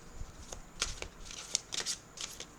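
Oracle cards from an archangel deck riffled and shuffled by hand: quick papery flicks and snaps in uneven bursts, close and fairly crisp, with no talking.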